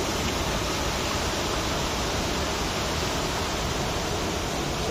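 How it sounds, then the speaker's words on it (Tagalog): A small waterfall on a river near a beach rushes in a steady, dense roar that fills the whole stretch without a break. "May mini falls siya."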